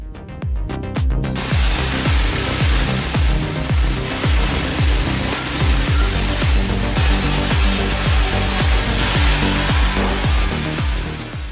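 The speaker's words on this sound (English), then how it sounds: "Large circular or band saws engage at full power, slicing logs into smooth," Sawmill machinery cuts logs into timber boards, a loud continuous grinding roar with rhythmic repeating pulses of the blade working through the wood, close and steady with no talk.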